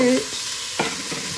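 Carrots tipped into hot olive oil with onion in a soup pot give a brief sizzle and stirring clatter, with a short burst near the start and a faint second hiss later.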